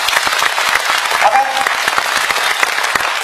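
A lecture audience at a public-speaking and eloquence seminar in Dezhou claps steadily, a dense, even round of applause that fills the whole moment without pause.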